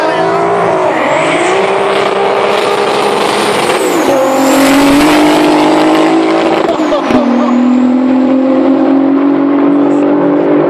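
Audi car accelerating at a Czech-Slovak drag race event, a loud, continuous engine roar rising in pitch through gear changes, with faint tire noise, dominating the scene without clear talk.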